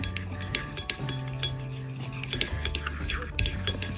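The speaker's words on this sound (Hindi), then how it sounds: "अब आप इसको अच्छे से मिक्स करेंगे।" A spoon stirs a mix of hair oils with essential oil and argan oil in a container, giving a run of light metallic clinks and scrapes over a steady low hum.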